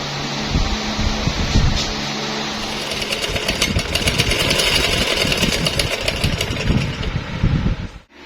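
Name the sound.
sewing machine running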